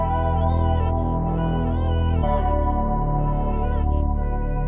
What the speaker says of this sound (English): I took the vocal, reversed it, sped it up, and pitched it up by a whole octave.